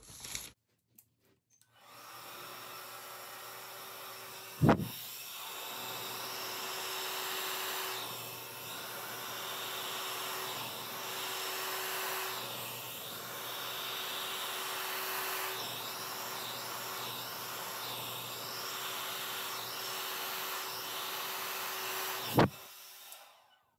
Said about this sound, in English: Now I'm going to use my blow dryer